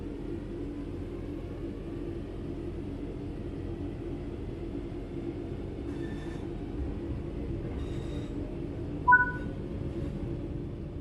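A train in Train Sim World 4 pulls away under power, a low, steady rumble of rolling stock with faint mechanical tones and a brief chime near the end.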